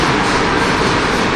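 Subway train riding through Prague, a steady loud rumble and rattle of the carriage filling the whole stretch, continuous with no pauses.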